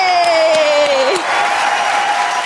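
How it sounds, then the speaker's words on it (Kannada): A studio audience at a Kannada TV game show claps loudly and steadily, a dense wash of applause with a sliding musical tone and sound effect over the first half. "ಬರ್ಲಿ ಜೋರದ ಚಪ್ಪಾಳೆ"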